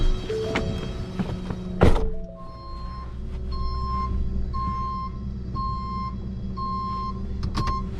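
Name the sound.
truck reversing with backup beeps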